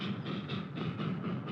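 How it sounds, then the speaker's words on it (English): A steam locomotive train rolls along the rails, its cars giving a steady, rhythmic clickety-clack under a continuous low rumble, loud and near throughout. "Silent except for the huff and the bang and the hiss of the engine, the click and the clack of the cars."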